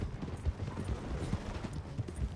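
Horse hooves clip-clopping in Red Dead Redemption 2, a steady irregular trot of soft low thuds continuing throughout at moderate loudness with faint game ambience behind.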